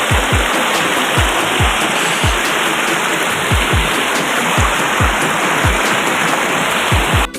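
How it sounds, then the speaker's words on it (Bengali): Monsoon stream water rushing through dense Kerala forest, a loud, steady roar of fast-flowing water close by that runs unbroken from start to end. "কেরালা বর্ষাকালে যখন জল হয় এখানে এইভাবে জল নামে"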